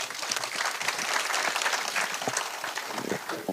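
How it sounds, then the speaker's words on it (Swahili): A town hall audience in Kiambu County applauds a commissioner, a dense, loud burst of clapping from many hands that holds steady throughout. "Pigia makofi commissioner."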